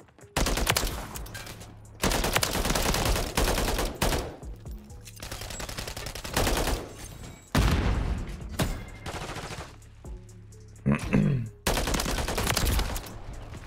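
Holger 5.56 rifle fire in Call of Duty MW3, loud sustained automatic bursts broken by short pauses, repeating steadily with the clatter of game action between volleys.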